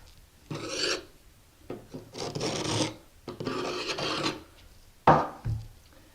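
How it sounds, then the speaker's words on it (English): A screwdriver scraped along grout lines on a shower wall, clearing out excess tile adhesive in a series of rasping strokes, each lasting about a second, close and clear with a sharper click near the end. "take your screwdriver and just run it down it."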